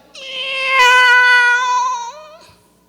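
A human voice imitates a cat, giving one long, loud, whining meow that swells and then trails off, up close with nothing else around it.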